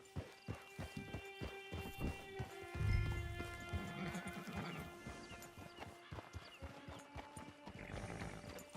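A horse in Red Dead Online clip-clops at a steady walk, hooves sounding in regular beats, with a whinny partway through and in-game ambience behind.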